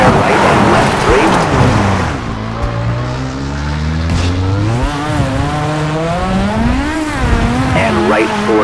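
A Citroen Xsara Kit Car racing in V-Rally 4, its engine revving and dropping through gear changes with rising and falling pitch and brief tire scrubbing, loud and close, with a co-driver's voice calling notes over it.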